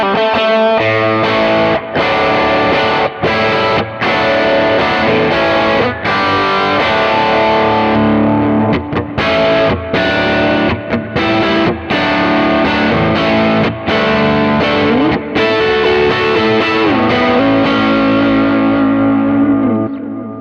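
An electric guitar plays through a small amp with a Klon overdrive pedal in front, giving a thick, driven tone with chords and riffs in a steady rhythm, with brief gaps between phrases and a ringing chord sustained at the end, close and loud.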